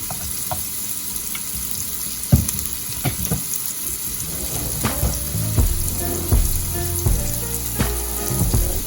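Collard greens sauteing with pepper flakes crackle and sizzle steadily in a pan, broken by several sharp utensil clanks and scrapes, with no one speaking.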